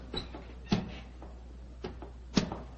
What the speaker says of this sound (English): The door's opening.